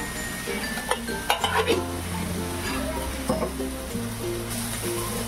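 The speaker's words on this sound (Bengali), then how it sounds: "মশলাটা কষতে কষতে আমি দিয়ে দেবো একটু নারকেল কোড়া।" Spice masala stir-fried in a pan for a jackfruit and moong dal dish, with sizzling under background music and intermittent scraping, stirring clinks of a spoon against the pan.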